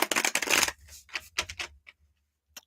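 Tarot cards being shuffled up close, a quick burst of riffling followed by several shorter flicks and a final soft tap, with no talking.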